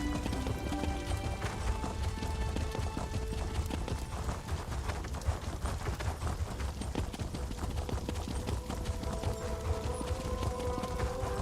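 Horse hooves clip-clop steadily in The Elder Scrolls Online, in the Alik'r Desert, over a continuous bed of ambient game sound and music, with no talking.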